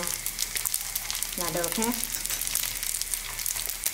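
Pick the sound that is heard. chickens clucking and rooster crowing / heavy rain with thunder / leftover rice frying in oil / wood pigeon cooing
leftover rice frying in oil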